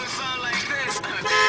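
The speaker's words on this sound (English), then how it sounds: "why the fuck are they beeping?" Car horns honk in street traffic, a few overlapping, drawn-out toots of moderate loudness from nearby, with no voices.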